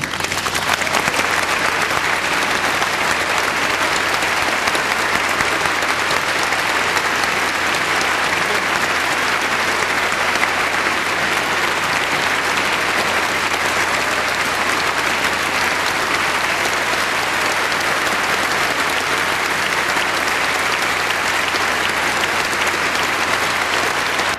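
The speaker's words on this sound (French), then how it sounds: "je vous demande d'applaudir Alexis Weissenberg" A concert audience applauds pianist Alexis Weissenberg in a dense, unbroken wash of clapping. It stays loud and even for the whole stretch, like an ovation filling the hall.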